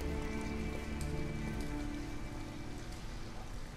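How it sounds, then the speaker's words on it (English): Rain falls in the video game Detroit: Become Human, a steady patter of drops on surfaces that continues evenly beneath a low, sustained tonal hum from the game's music and ambience, with no talking. "And it's raining."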